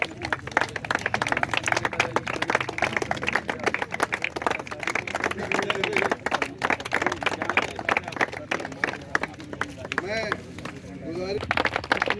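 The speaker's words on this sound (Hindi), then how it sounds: "जोरदार तालियां बजाइए।" A crowd claps at the opening of a cricket academy in Lucknow, steady dense applause running throughout, with someone speaking over it near the end.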